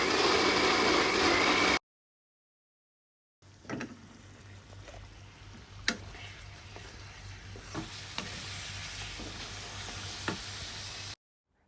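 Chicken fries in a pan as it is stirred, giving a soft continuous sizzle punctuated by scraping knocks of the utensil, broken by a silent gap early on before the frying resumes.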